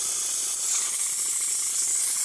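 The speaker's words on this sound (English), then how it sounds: "And I'll show you the steam." Steam wand on an Expobar Office Leva espresso machine, recently serviced, releases a strong continuous hiss of steam that holds steady and fairly loud throughout, with no talking.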